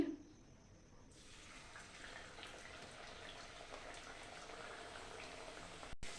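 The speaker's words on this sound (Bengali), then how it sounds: "তেল গরম হয়ে গেছে, এক একটা করে আমি ভেজে নেব।" Food pieces frying in hot oil in a kadai, a steady broadband crackling sizzle that swells after the first second and continues evenly at moderate level, with a sharp click near the end.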